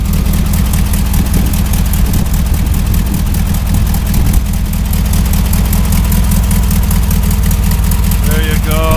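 A 1974 VW Beetle engine with a newly fitted carburetor idles steadily at close range, a constant low rumble that runs the whole time beneath a speaking voice.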